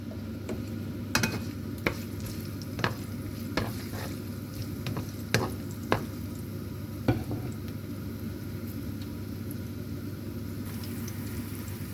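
Garlic frying in a little oil in a pan, a steady soft sizzle punctuated by sharp clinks and scrapes of a utensil stirring at irregular intervals.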